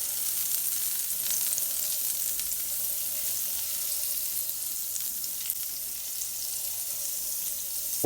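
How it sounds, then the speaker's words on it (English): Margarine melting in a preheated pan on medium-high heat, giving a steady, soft, continuous sizzle and crackle that stays even throughout with no talking. "we're going to take some of our margarine and we're just going to drop it in there and let it begin to melt"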